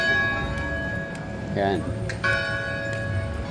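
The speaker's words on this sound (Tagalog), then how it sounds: "Bell Church ringing." A church bell near Davao City Hall on San Pedro Street rings with a bright, sustained tone behind street ambience, someone briefly speaking over it.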